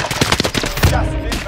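Rapid bursts of automatic gunfire in the video game Warzone, loud and close, with a few quick shots followed by a heavier blast and ringing decay.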